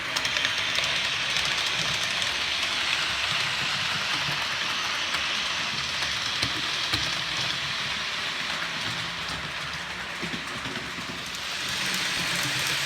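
Hornby GWR High Speed Train model set running around its track, a steady, busy rattling clatter of small wheels on rails that stays close and loud throughout with no voices.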